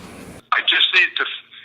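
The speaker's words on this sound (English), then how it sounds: "Making the phone call and we're going to record it." A phone call is placed, with a dialing or ringing tone cutting off abruptly and then a voice coming through the telephone line, thin and band-limited.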